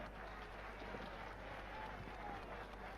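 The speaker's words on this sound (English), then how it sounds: "Now a nice round of applause," A boxing arena crowd applauds and murmurs for Michael Jack Johnson before his bout with Mike Tyson, a dense, distant wash of clapping and crowd noise that stays even throughout.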